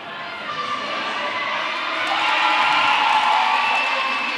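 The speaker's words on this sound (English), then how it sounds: "that noise from the crowd indicating that Chispita is through for his initial" A roller derby crowd at an Argentina versus Australia game roars in sustained cheering and shouting that swells louder midway, filling the arena steadily for several seconds.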